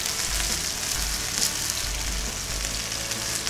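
Beef chunks browning in a hot pan with a sprig of rosemary, a loud continuous sizzle and crackle throughout, close up with no talking.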